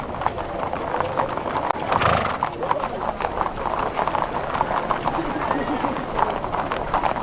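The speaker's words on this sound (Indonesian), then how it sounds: "Tentunya juga diiringi oleh 70 pasukan berkuda." Hooves of a mounted cavalry escort of about 70 horses clatter steadily at a ceremonial state welcome for the Australian prime minister at the presidential palace, a dense continuous clip-clop with a brief whinny under a crowd and commentary voices.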